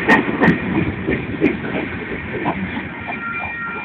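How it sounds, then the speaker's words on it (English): Steady rumble of a Union Pacific freight train led by an AC44CW locomotive rolling past with rhythmic clicking and clacking of wheels over rail joints, fairly close and continuous. "Nice train, isn't it?"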